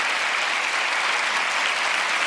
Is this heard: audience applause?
yes